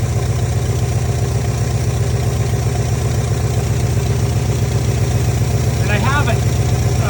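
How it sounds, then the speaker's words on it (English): A car engine with a bad intake manifold gasket idles steadily and loudly throughout, its low pulsing rumble unbroken, with a brief chirp near the end. "So it sounds like the intake manifold gasket is bad."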